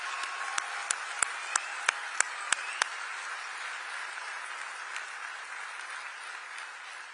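Faint, distant applause from a large audience at the FIFA World Cup draw at the Kennedy Center, a steady wash with a handful of sharper claps standing out early on.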